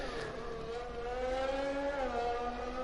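A McLaren race car engine at the Bahrain circuit in a racing video game, holding a steady high whine on a flying lap, with smooth rising and falling pitch as the gears shift. It sounds fairly faint and plays alone.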